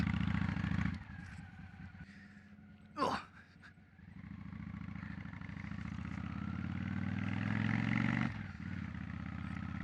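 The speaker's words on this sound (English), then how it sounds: "This is a 2002 Honda Shadow 750 bobber." 2002 Honda Shadow VT750 Ace bobber rumbles at idle, then its engine note rises steadily as the bike pulls away, with a brief clatter partway through.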